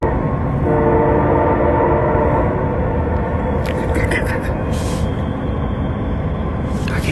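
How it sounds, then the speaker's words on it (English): A train rolls past close by, a loud steady rumble and rattle of railcars on the rails holding for the whole stretch, with brief hissing bursts near the end. "I love the sound of trains."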